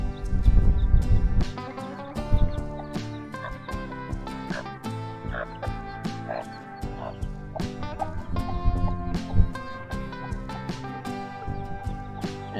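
A broody hen clucks to her ten newly hatched chicks in a backyard coop, repeated close clucks over a dense bed of high chick peeping, loud and busy throughout.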